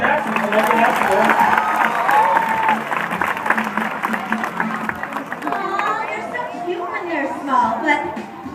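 Audience applause and cheering fill the room for a few seconds, then fade into crowd chatter and an excited voice as the clapping dies down.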